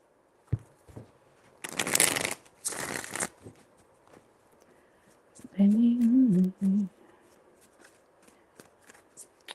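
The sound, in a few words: shuffling tarot cards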